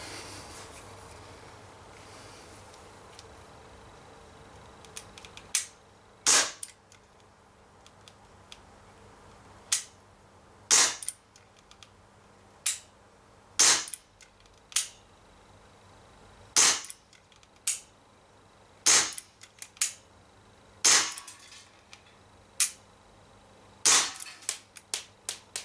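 Repeated sharp cracks from a TT-33 CO2 gas blowback airsoft pistol firing 0.2 gram 6mm BBs, about a dozen shots spaced one to two seconds apart, close and loud against a quiet background.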